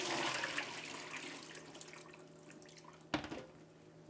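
Soaked buckwheat and its soaking water are poured into a strainer, making a close, steady watery rush that slowly thins out, then a brief splash near the end.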